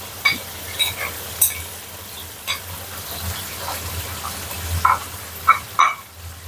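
A pot of spicy Thai pork bone soup boils steadily. Soft, continuous bubbling is broken by occasional sharper pops and blips, heard close and without talking.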